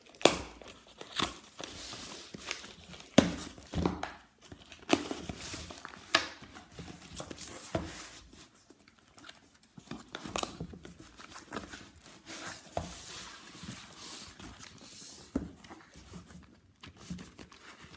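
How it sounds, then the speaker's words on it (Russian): A trading card case box is torn open by hand, with close, continuous crinkling, ripping and rustling of cardboard and wrapping punctuated by sharper tears. "Вот такой мы сегодня кейс вскрываем."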